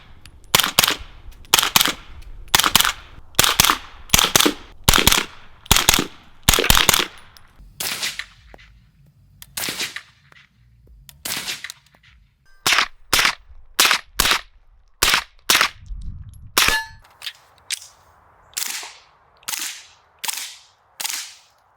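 Suppressed 9mm gunfire through a Dead Air Wolfman can rings out as a long series of sharp, evenly spaced shots, a steady string, a brief pause, then another run of cracks.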